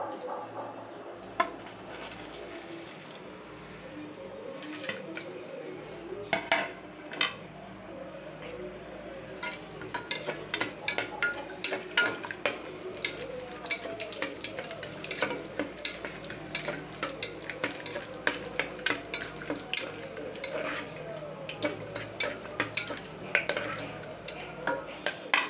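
Whole spices such as bay leaf, cumin, fennel, cinnamon, cloves, cardamom and mace frying in hot oil for veg pulao, crackling and popping in sharp clicks that grow thicker and quicker, with occasional clinks of a utensil against the pan.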